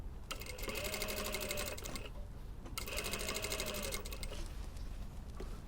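A sewing machine stitches the side seam of a lined bomber jacket in two close, steady bursts of rapid needle clatter, each about two seconds long, separated by a short pause.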